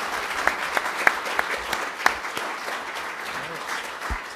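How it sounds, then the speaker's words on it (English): A conference audience claps in a modest round of applause, fairly soft and moderately distant, with a few sharper individual claps and whoops standing out before it fades. "if we could give them a big round of applause"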